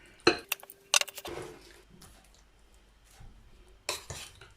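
Fish being mixed into batter in a bowl, with a few sharp clinks of a spoon against the bowl early on, then soft faint scraping and stirring, and another quick clink cluster near the end.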